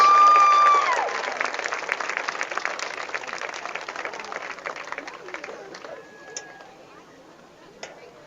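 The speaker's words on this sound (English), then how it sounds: "How about a round of applause for these senior band members?" Crowd applause for senior band members at a high school football game, bursting loud at first and then settling into steady clapping that slowly thins out, heard from within the stands.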